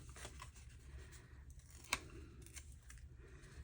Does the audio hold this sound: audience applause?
no